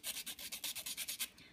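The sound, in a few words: sandpaper sanding a bent wooden popsicle stick bangle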